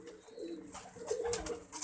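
Soft pigeon cooing, a few low murmuring coos close by over a faint background hiss.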